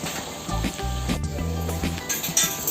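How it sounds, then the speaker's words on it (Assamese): Chopped onions sizzling in hot mustard oil for an Assamese mutton curry, a steady close frying hiss with small pops and crackles throughout. "পিঁয়াজখিনি অকণমান ৰঙচুৱা হ'লৈকে ভাজি থাকিব লাগিব"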